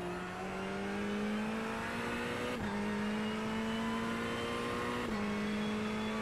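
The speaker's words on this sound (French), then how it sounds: "Voilà, ici gros freinage." A race car in the sim-racing game iRacing brakes hard, its engine a steady, close whine that drops sharply in pitch twice as it shifts down.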